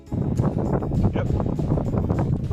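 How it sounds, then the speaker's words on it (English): Gusty coastal wind between Glenarm and Ballygally, Northern Ireland, buffets the microphone in loud, low rumbling bursts throughout the short stretch. "Bit windy."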